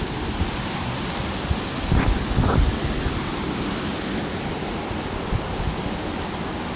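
Water rushes steadily over a river waterfall at Rymphluh and Muliang, a loud, continuous roar with a few faint knocks near the middle.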